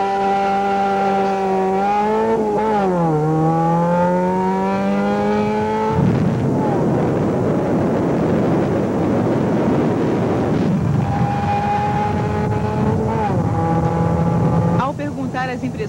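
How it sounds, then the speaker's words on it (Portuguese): Interior of a Porsche replica during a hard launch: the engine revs climb through gears with a gear change dip, then a loud roaring rush of wind and mechanical noise, closely miked and continuous. "Gravou uma arrancada dentro de uma réplica de Porsche"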